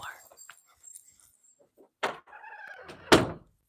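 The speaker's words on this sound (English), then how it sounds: "Oh, I'm going to close my door." A room door swings shut in a home yarn room, giving a single solid thud near the end, preceded by a softer knock and a voice nearby.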